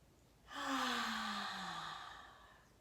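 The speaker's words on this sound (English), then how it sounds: "take a big deep breath in" One slow, deep breath during seated chair yoga, drawn in through the nose and let out through the mouth in a long, airy exhale, soft and close.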